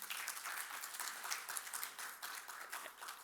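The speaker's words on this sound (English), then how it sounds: "We can just have a big round of applause there," A fairly faint, sparse round of clapping from a business breakfast briefing audience honouring a prize winner, scattered hands patting irregularly at a distance.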